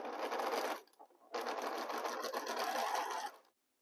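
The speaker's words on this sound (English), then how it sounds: "we are going to sew here and here" A sewing machine stitches fabric squares together in two close, loud runs of rapid mechanical whirring. A short pause separates the runs.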